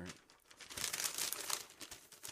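Paper is crumpled close to the microphone, a continuous crackling rustle that swells and fades in uneven bursts, with no speech over it.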